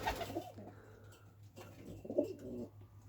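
Homing pigeons in a loft give soft, low cooing calls, a few rolling coos close by over a steady low hum, with no talk.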